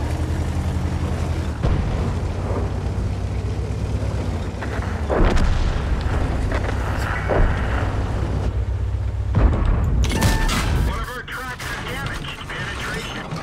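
Heavy tank cannon shots and booms in World of Tanks, a few loud blasts spaced over steady game engine rumble, with a person talking over parts of it.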